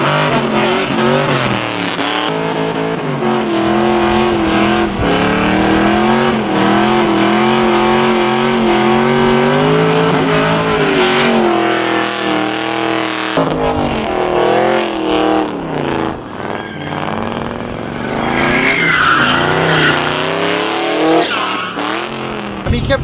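A car engine roars and revs continuously as tires squeal and skid in a long, loud burnout on a burnout pad at Cleetus McFarland's Freedom Factory, with crowd noise around it and no clear talking.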